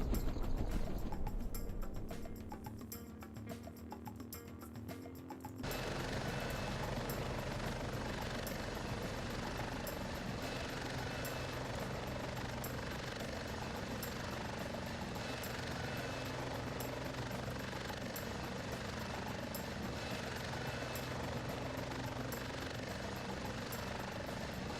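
A video game helicopter in flight: rotor thumping and engine drone carry on steadily after a noisy start, a continuous mechanical hum with no talking.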